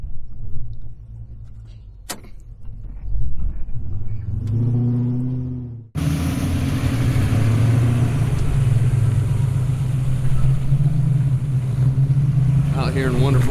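A 1973 Chevrolet Camaro RS Z28 rumbles loudly from the cabin, a brief engine swell giving way to a steady driving drone with road and wind noise, and a voice speaks over it early on.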